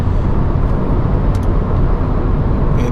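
A bus rumbles past on a road nearby, a loud sustained low roar of engine and tyres with no let-up across the few seconds.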